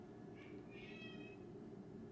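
A lonely house cat gives two meows, a short chirp followed by a longer wavering cry, soft against a constant low room hum with no one speaking.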